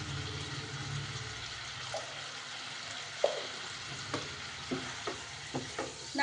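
Garam masala frying in a pan with hot oil, a low steady sizzle with occasional stirring clinks and scrapes spread through.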